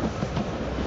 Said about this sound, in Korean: 노팅엄에서는 이산화탄소 배출을 줄이기 위해서 영국에서 사라진 전차를 10년 전 다시 부활시켰습니다.